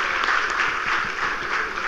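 Audience at a gala night breaking into applause, a brief, dense, even wash of many hands clapping, moderately loud and without talk.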